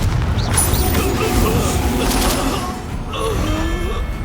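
Spell impacts in Hogwarts Legacy combat, Confringo fire blasts and Crucio curse effects, a dense continuous churn of magical booms, crackles and mechanical whooshes layered over game music, loud and busy throughout.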